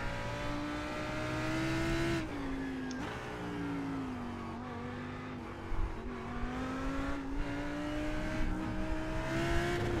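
Race car engine in a sim racing game at Silverstone during a three-hour endurance event, steady drone with gear shifts and revs, a brief tyre scrub midway; worn tyres and brakes pulling right.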